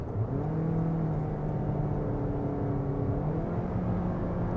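A 2022 Toyota Corolla Cross with a CVT accelerates hard on a highway to overtake, heard from inside as a steady, loud engine drone that climbs slowly in pitch and holds without letting up, with no talk.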